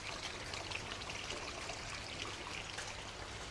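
Steady, even rush and trickle of water topping up a koi pond used for Doitsu Showa breeding, continuous and moderately close with no voices.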